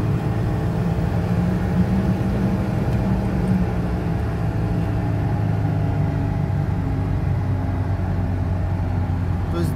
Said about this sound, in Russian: То есть до 120 крутится мотор хорошо